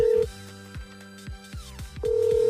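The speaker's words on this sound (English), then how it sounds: "I called Rio's burner phone." A phone call placed to Rio's burner phone in Blue Archive, with a steady electronic ring tone sounding, breaking off, then resuming, accompanied by repeated sharp blips from the game interface.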